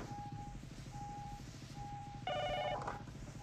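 A telephone rings in short repeated electronic bursts over a low rhythmic mechanical pulse, with a brighter tone cutting in near the end.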